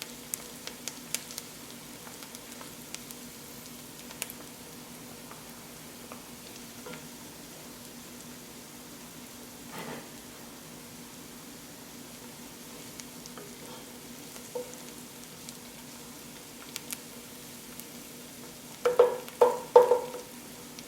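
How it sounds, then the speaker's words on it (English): Minced garlic cooks in a pan for shrimp risotto with a faint, low sizzle and scattered soft crackles. A brief burst of louder spattering and stirring comes near the end. "minced garlic. And I'm going to give them about a minute to cook."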